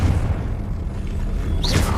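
The Confringo blasting spell exploding in the video game Hogwarts Legacy, a loud deep boom rumbling for about two seconds with a brief whooshing flare near the end.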